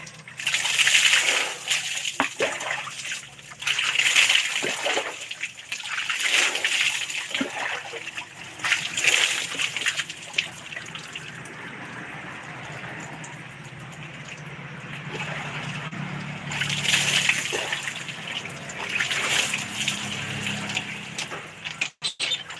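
Water gushes and splashes from a hand water pump during an outdoor bath, coming in repeated loud pulses with each stroke of the pump and a steady slosh and trickle between strokes.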